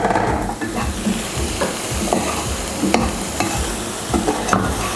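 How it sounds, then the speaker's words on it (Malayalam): Chopped button mushrooms sautéing with garlic in a pan, a close steady sizzle broken by repeated scraping stirs at an irregular rhythm. "ബട്ടൺ മഷ്റൂമാണ്, അത് അതിലോട്ടിട്ടു"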